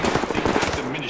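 Rapid broadside of ship cannons aboard the USS Constitution in the video game Fallout 4, a dense, loud burst of overlapping booming shots with no clear gaps.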